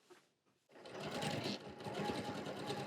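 A sewing machine stitches the pocket onto a fabric apron front, starting after a short pause with a steady, close, continuous whirring run that lasts to the end.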